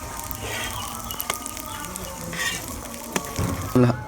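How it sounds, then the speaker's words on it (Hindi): A capsicum omelette frying in a pan on a low flame, a gentle steady sizzle with small crackles and a brief clatter near the end. "इसी तरह से हम दूसरी साइड को भी हल्की आंच पर 2 मिनट के लिए पका लेंगे।"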